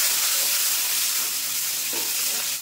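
Ground dried chilli, turmeric and salt frying in a pan for a rohu fish and potato curry, a dense, loud hiss of sizzling oil with faint stirring underneath, cutting off abruptly at the end.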